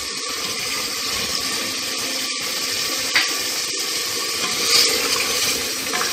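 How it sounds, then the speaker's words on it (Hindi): Water pours into a cooking pot of browned meat and taro root, a continuous splashing rush close by, steady throughout with a few small clinks and no voice. "अब इसमें हम पानी शामिल करेंगे ताकि ये सब्ज़ी गल जाए"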